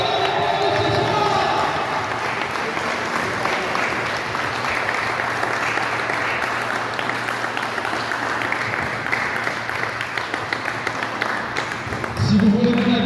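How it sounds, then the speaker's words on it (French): Applause from the crowd at a boxing gala in Beaugency, a dense, sustained clapping that runs on evenly throughout, with cheering mixed in and a voice cutting in near the end. "je vais vous demander un tonnerre d'applaudissements pour Nesta Ragnar"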